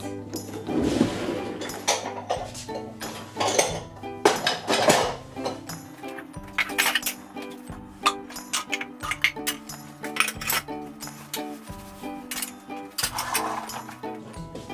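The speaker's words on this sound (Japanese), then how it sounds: "片付けきれてなかった食器片付けていきます。" Dishes and cutlery taken out of a dishwasher clink and clatter repeatedly as items are handled and stacked, with steady background music playing throughout.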